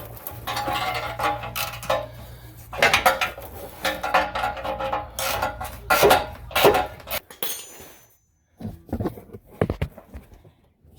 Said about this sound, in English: Now is when I'm going to tighten up the 2-bolt flange.